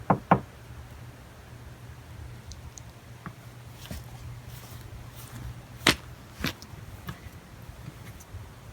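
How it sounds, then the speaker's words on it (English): A few sharp knocks strike a house door near Ninilchik, Alaska, a quick double rap followed by scattered later taps over quiet outdoor background. "let's knock"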